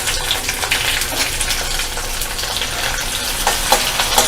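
Small chopped tomatoes tumble into browned onions frying in a pan, setting off a loud, continuous hissing sizzle with scattered crackles and a few spatters throughout.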